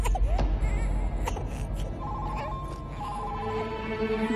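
A mobile phone rings with a repeating electronic tone against a noisy indoor background, a faint whimpering cry heard underneath.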